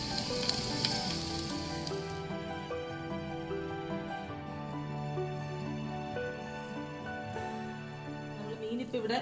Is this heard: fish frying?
yes